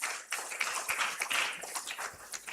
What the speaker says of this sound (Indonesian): Tepuk tangan sekali lagi buat Pak Wamen dan Pak Deputi.